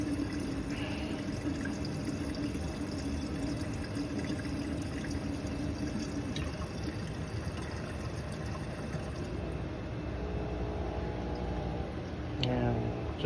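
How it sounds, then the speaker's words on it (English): A dishwasher drains water into a kitchen sink drain, a steady rushing, gurgling flow that runs continuously at moderate level, with a faint pump hum beneath and a few splashy gurgles near the end. "Dishwasher's still draining."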